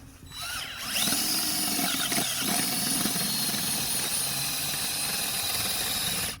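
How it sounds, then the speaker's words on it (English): A power drill with an auger bit whirs steadily and loudly for several seconds, grinding as it bores a hole into desert ground, with no voices. "It's just a bit that you put on the end of a drill, and he's gonna make a hole."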